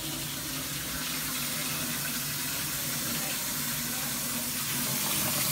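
Cold tap water runs steadily from a faucet into a sink to cool boiled eggs, a continuous close splashing stream with no talking.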